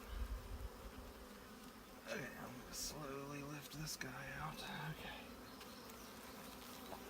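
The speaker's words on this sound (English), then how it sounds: "they definitely have more bees in them" Honey bees hum steadily around an opened hive box with brood and fresh honey, a close, continuous buzz beneath someone speaking.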